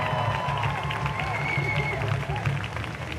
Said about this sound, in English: you're going to hear the crowd chanting